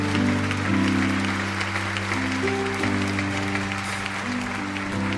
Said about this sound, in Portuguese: Vamos aplaudir com força a palavra de Deus.